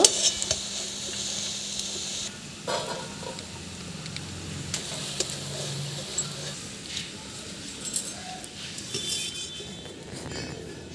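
Fried cabbage being scooped from a wok, with scraping spatula strokes and clinks of metal on the pan, a faint sizzle underneath and a few sharper taps scattered through.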